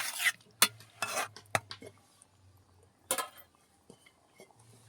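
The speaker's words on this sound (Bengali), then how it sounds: "মাংসটা দেওয়ার পরে আমি 2 মিনিট ভালো করে মাংসটাকে কষিয়ে নেব।" Beef sautés in a pan while a spatula scrapes and stirs, giving several sharp clinks and scrapes spaced irregularly over a faint sizzle, close up and without any talk.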